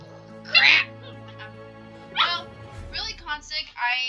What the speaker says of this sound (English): Sorry if you guys have your ears being blown out by my dog.